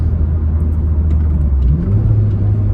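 A Honda Civic Type R FK2 engine accelerates with a muffled, low rumbling drone that climbs in pitch partway through, heard close and steady without any talk.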